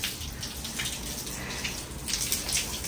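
Clothes are rinsed by hand in water, with soft, faint sloshing and splashing that rises and falls with no voices over it.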